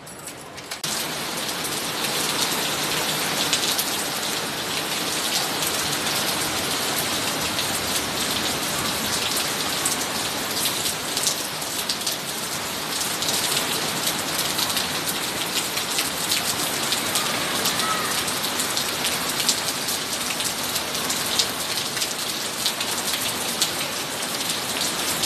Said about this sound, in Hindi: तो यहाँ पे अब जो बारिश है वो लाइट हो चुकी है